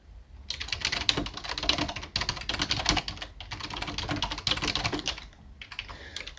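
Steady bursts of typing on a computer keyboard while HTML meta tags are written, close and fairly quiet, with short pauses between runs of keystrokes and no speech.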